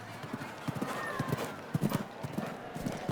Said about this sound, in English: she is an aggressive young rider with a talented horse in Hester